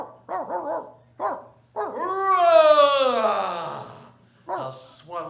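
A performer voices a small dog's barks and whimpers in a radio drama, giving several short yaps, a long whining howl, then more quick barks, close and clear.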